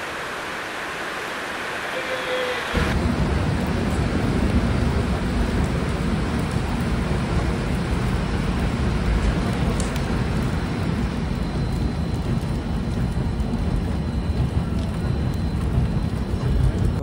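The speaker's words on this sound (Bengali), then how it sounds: "আর এদিকে বলতে পারো দেখো বিশাল বৃষ্টি হচ্ছে।" Heavy rain pours down outside a train running from Kolkata to Agartala near Cooch Behar, a dense steady roar that starts abruptly after a few quiet seconds and holds loud and unbroken to the end.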